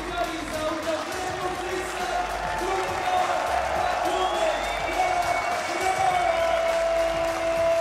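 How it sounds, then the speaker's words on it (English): Home crowd at the Red Bull Street Style freestyle football world final cheering and clapping for a player, a sustained roar with whoops under a commentator's talk. "Big support for Kala from the home crowd."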